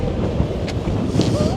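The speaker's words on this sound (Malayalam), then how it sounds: "ഇവിടെ ഒടുക്കത്തെ കാറ്റെന്ന് പറഞ്ഞാൽ ഒടുക്കത്തെ കാറ്റ്." Strong wind at a cold seashore buffets the microphone in a loud, continuous rumbling roar with gusty swells and a faint voice or two.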